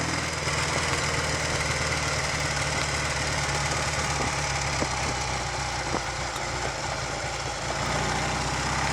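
A Triumph Tiger 100 motorcycle engine runs at low speed with the choke closed. Its steady, close mechanical chugging and knocking stays even throughout.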